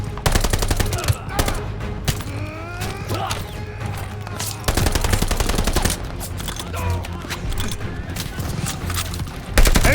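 Rapid machine gun bursts and scattered gunshots in the World War II video game Call of Duty: Vanguard, dense repeated firing with explosions and shouted voices over battle noise.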